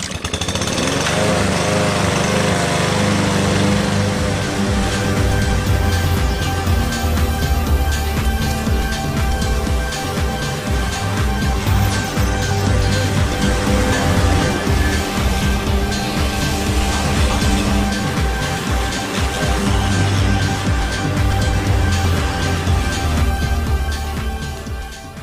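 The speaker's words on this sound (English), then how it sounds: "We just finished mowing the grass for the first video." A petrol lawn mower cutting grass in hot weather, its engine droning loud and steady up close for the whole stretch with a constant rough hum and no pauses.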